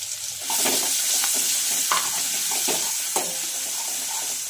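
Cumin and a ground spice paste fry in a hot pan while being prepared for shengole, giving a steady close sizzle with several sharper bursts as the mixture is stirred.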